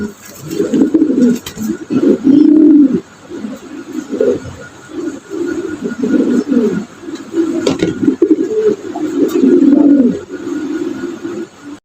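Modena pigeons coo close by in repeated low, throaty bursts, several overlapping phrases with short pauses between them.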